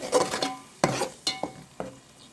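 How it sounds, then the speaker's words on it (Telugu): Masala spices frying in hot oil for a chicken gongura curry, with several separate scrapes and clinks of a spoon stirring against the pan over a faint sizzle, close and alone. "ఆయిల్లో ఫ్రై అవ్వాలి మసాలా. మసాలా ఫ్రై అవుతుంది."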